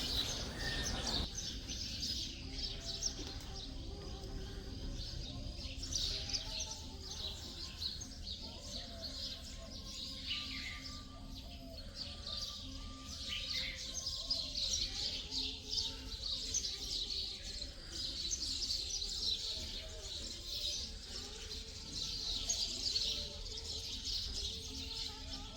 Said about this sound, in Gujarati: એકદમ શાંત વાતાવરણ છે જેના હિસાબે આપણે પક્ષીઓનો અવાજ સાંભળી શકીએ છીએ.